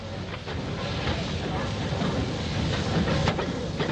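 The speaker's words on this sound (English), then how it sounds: "Later that day, the A4 passed through Banbury." An A4 steam locomotive hauls a train through Banbury, its steady clickety-clack of wheels and rail noise rolling past loudly with a faint hiss throughout.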